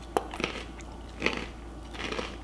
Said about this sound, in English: Let's see if we can hear the crunch when we chew.